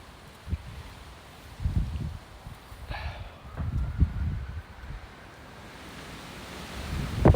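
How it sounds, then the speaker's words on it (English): Strong gusts of wind buffet an outdoor microphone, rumbling in uneven low bursts that rise and fall over several seconds, with a faint high whistle partway through and no talking. "that wind is absolutely crazy."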